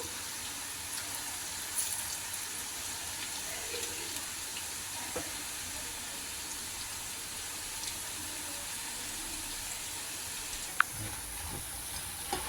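Cabbage and onion pakoda frying in hot oil, giving a steady, even sizzle and hiss with faint crackles and one sharp pop near the end, close by and without speech.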